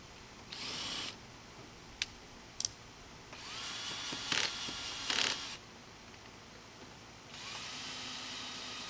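Cordless drill driving screws while assembling a Masterbuilt Gen II electric smoker, several short whirring bursts of varying length separated by quiet pauses, with a few sharp clicks between them, fairly close.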